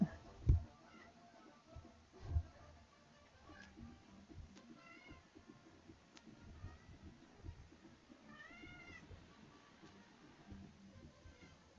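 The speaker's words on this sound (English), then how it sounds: "I'm not sure if you heard the cat." A cat meows a few times, quiet and fairly close, with its high calls drifting in short bursts over a low background of room noise and faint thumps.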